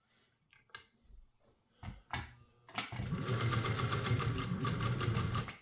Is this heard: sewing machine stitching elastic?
yes